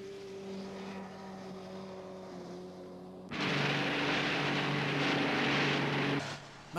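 A motorboat engine in the anime Raideen, as the boat heads out to open sea, bursts into a loud, steady roar partway through, following a lower mechanical hum.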